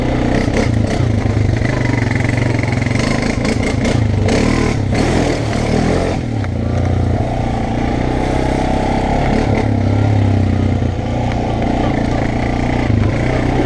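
Honda dirt bike engine revving in a muddy field: a loud, continuous, close engine roar with rising and falling throttle and some clatter throughout.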